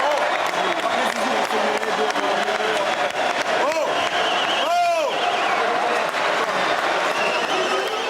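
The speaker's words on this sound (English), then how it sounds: "French fans turned up in their thousands to cheer Zinedine Zidane and his teammates on their return to Paris" Thousands of French football fans cheering in Paris to welcome Zinedine Zidane and the 2006 World Cup team home, a dense, continuous crowd roar with applause, whistles and a rising horn, while a voice talks over it.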